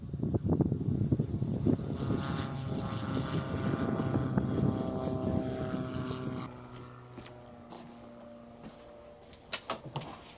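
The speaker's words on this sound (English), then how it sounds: "And there's another one going for takeoff now." A propeller airplane takes off at Ouessant island airport, its engine drone loud and steady before fading into the distance, leaving wind noise and a few close knocks.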